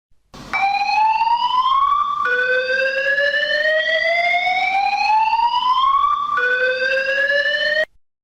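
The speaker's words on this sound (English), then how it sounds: "This siren indicates that there is a need to evacuate the power station." At the Vales Point power station, a loud evacuation siren wails in long rising sweeps, each climbing slowly in pitch before resetting low, three cycles in all, then it cuts off abruptly with no talk over it.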